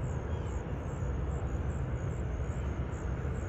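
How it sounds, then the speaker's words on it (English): Steady, loud industrial rumble from a factory nearby at sunrise, a continuous low-heavy drone with broadband hiss that holds evenly throughout with no talking. "if you hear a lot of noise in the background, that's that factory off to the right of me"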